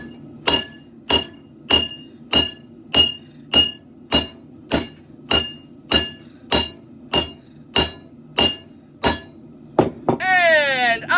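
Evenly spaced hammer blows ring out on a katana blade being forged, about fifteen sharp metallic strikes at a steady rhythm, close and loud, ending in a rougher scrape or grind.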